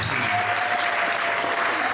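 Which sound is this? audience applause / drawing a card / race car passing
audience applause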